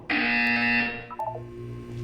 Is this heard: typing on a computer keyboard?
no